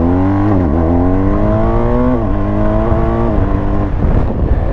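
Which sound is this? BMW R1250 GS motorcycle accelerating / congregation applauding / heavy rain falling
BMW R1250 GS motorcycle accelerating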